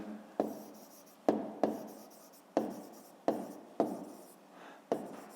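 Pen or pencil writing on paper while solving a fifth-grade maths exercise, with a series of about seven sharp strokes, each fading into a soft scratch, close and quiet.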